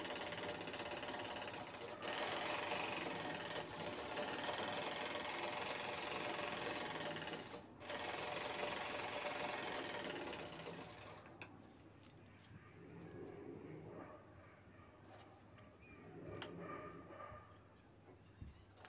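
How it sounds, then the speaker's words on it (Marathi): A sewing machine runs steadily, stitching the side seams of a garment with fitted runners, whirring continuously for about eleven seconds with one short pause, then stopping and giving way to quieter handling sounds. "आता साईडनं शिलाई घ्यायची आहे।"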